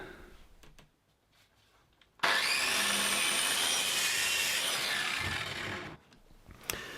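A saw cuts through wood with a new splinter guard fitted: after quiet handling noises, a loud, steady rasping buzz starts abruptly and runs about four seconds before cutting off, followed by a few knocks.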